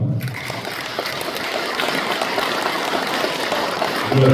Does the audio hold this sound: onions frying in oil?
no